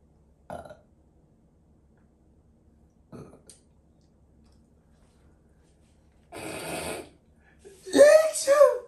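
A loud, drawn-out burp rises near the end, following a couple of short throat noises and a brief breathy burst, in a comedy skit about insults after sneezing.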